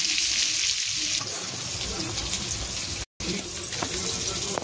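Onion and garam masala fry in a pan for a crab curry, a continuous close sizzle with light stirring scrapes and a short gap partway through.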